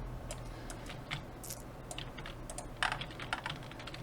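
Dice rattle and clatter in short bursts as they are rolled for a Warhammer 40k Kriegsspiel tabletop wargame, with small sharp clicks scattered across a low steady hum and no talking.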